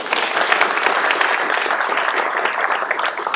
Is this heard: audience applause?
yes